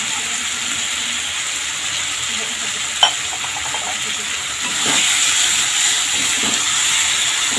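Spice paste for a potato and pointed gourd curry being fried and stirred in a pan, a steady soft sizzle and hiss throughout with occasional scraping stir sounds, growing slightly louder midway.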